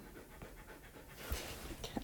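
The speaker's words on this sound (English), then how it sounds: "this heavy breathing of this dog is driving me nuts" A dog pants heavily in rapid, steady breaths nearby, a soft rhythmic huffing that continues throughout with a few louder gasps near the end.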